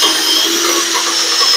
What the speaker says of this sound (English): I'm just going to drill it straight into the frame here.